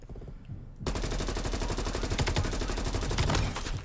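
Rapid automatic gunfire from a weapon in Call of Duty: Cold War starts abruptly and rattles on loud and continuous for about three seconds, close up with no talking.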